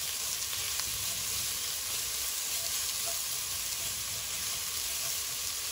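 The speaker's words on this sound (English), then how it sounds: "I'm going to mix it a little bit so that onion catches the oil at the bottom" Chopped garlic and half a medium onion frying in oil in a pot, a steady close broadband sizzle with faint stirring scrapes, no talking.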